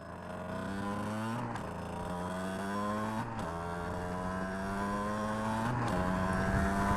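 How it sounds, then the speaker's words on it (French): A 50cc motorbike engine warms up while being ridden in fourth gear, a steady buzzing drone with rising pitch that dips briefly at each of a few gear or throttle changes, heard close and continuous. "On fait chauffer le moteur."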